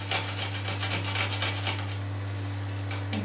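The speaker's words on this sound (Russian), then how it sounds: "Натру на мелкой терочке." A garlic clove is rubbed on a fine kitchen grater, giving close, rapid rasping strokes in a steady rhythm over a constant low hum before the scraping stops near the end.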